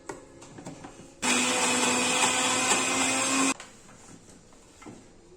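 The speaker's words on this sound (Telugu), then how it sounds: "ఇలా కలుపుకుంటూ మిక్సీ పట్టుకోవాలి." A mixer grinder grinds garlic paste with salt, turmeric and oil, a loud steady whirring motor roar lasting about two seconds, framed by quieter clattering and handling before and after.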